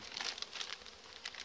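Plastic foil rustles and crinkles in quick irregular bursts, close and fairly soft, as the sheet is laid over a beehive.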